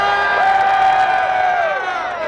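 A crowd gathered around a Bugatti cheers and whoops in one loud, close burst of voices that swells and then fades within a couple of seconds.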